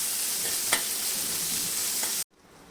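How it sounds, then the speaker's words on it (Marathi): Onion sautés in a pan for a Marathi vegetable dish, giving a close, steady sizzle with a couple of faint stirring scrapes before the sound cuts off sharply. "कांदा थोडासा लालसर होईपर्यंत किंवा मऊ होईपर्यंत आपण हा परतून घ्यायचा आहे"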